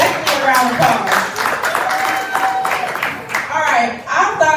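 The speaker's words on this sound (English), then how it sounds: "that's definitely a round of applause" A round of applause at a celebratory Metro Council event, scattered hand claps running steadily beneath a voice that keeps talking over them.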